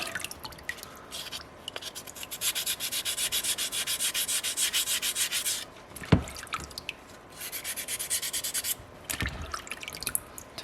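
Close, dry scraping of a soapstone wolf carving being sanded, wet rasping strokes in long runs, rounding off the toes, with short pauses and a couple of sharp taps between passes.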